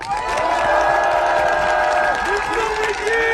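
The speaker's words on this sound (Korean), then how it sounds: "이재명 대표님께 큰 박수 한번 보내주십시오" Audience at a party leader's emergency press conference applauding, a short, dense patch of clapping with some cheering mixed with sustained tones and a few voices.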